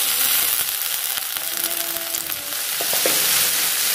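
Loud, steady sizzling of mustard greens added to hot tempering oil, with occasional stirring clinks and scrapes, no voices.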